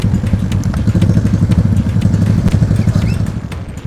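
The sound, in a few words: motorcycle engine on muddy rural road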